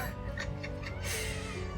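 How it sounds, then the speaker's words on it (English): A pet cat gives a few short, fairly close meows indoors. A longer mewing call follows near the end over a steady background hum. "my cat is here."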